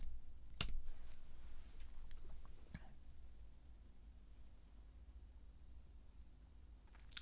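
A few soft, sharp computer mouse clicks, with one louder click near the start, sound close against a quiet room background.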